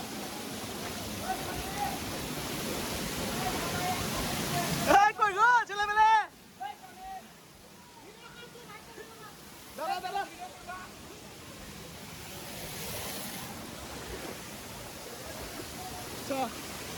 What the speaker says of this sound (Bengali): পানি পড়ছে চারিদিক দিয়ে ফোনেও পানি পড়ছে